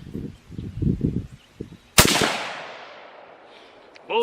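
A Weatherby Vanguard Sporter rifle in .243 fires a single sharp, loud shot partway through, its report decaying over a couple of seconds, after some faint handling knocks.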